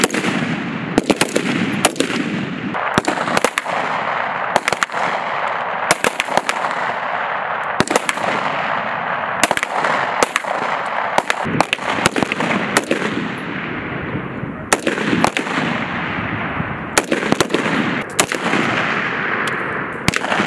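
Rifles fire repeatedly on a military weapons training range, sharp loud cracks in irregular bursts and closely spaced volleys, with echoing reports between shots.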